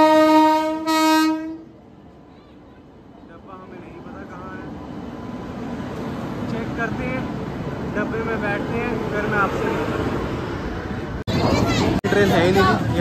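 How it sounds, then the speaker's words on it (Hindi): A passenger train pulls into a station in India, a long steady horn blast opening the clip before the rumble of the arriving cars builds and rolls on loudly, with people on the platform talking over it. "ट्रेन 3 मिनट बिफोर आ गई है, अब पता चला कि ये पटना वाली ट्रेन आई है"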